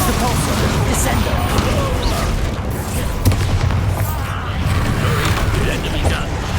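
Bombarda and Confringo spell explosions in Hogwarts Legacy, heavy booms and crashing impacts over a constant rumbling game mix, with a voice shouting over them.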